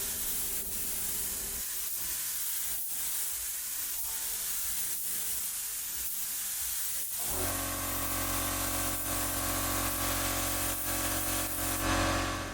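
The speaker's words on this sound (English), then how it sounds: "going a little bit slower with the spray gun to get the clear nice and wet and nice and even" A spray gun laying down a wet, even clear coat on a car, a steady loud hiss that changes character partway through and then continues as a broader, stronger spray.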